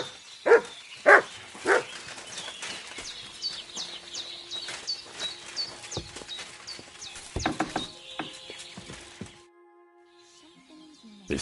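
Mutt the dog barks in Kingdom Come: Deliverance 2, with a few sharp, close barks near the start and another cluster later, over a steady bed of outdoor birdsong and ambient noise.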